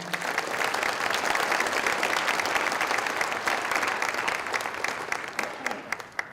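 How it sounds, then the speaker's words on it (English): An audience at an electric association's annual meeting gives attendees a round of applause, sustained, even clapping from many hands that thins out into a few scattered claps near the end. "If you could give these folks a nice hand of applause for coming"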